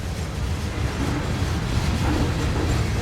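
CN freight trains rumble past a Loram rail grinder train on a July day in Iowa, a loud, close, continuous roar of rolling wagons and rail noise.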